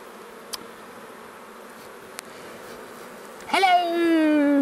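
Honey bees buzz steadily around a hive left untouched for twenty years, a low continuous drone with a couple of sharp clicks, then a louder close pass near the end as the buzzing rises.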